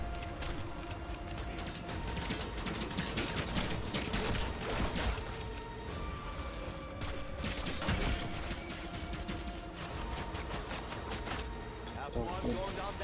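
Sustained gunfire and rapid weapon bursts from Black Ops 6 Zombies on the Tomb map fill the scene without pause, dense and continuous with players talking over the action.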